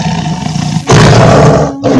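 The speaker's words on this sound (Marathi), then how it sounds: "चरता चरता वाघाची डरकाळी कानावरती आली." A tiger's roar used as a sound effect in a devotional storytelling talk: a loud, rough roar bursts in after a quieter stretch, holds for about a second, dips briefly, then swells again close and dominant.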